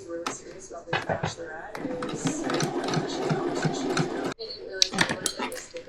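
A sewing machine stitches mesh fabric in bursts of fast, close mechanical chatter, with short pauses and a sharp stop near the end, while someone talks over it.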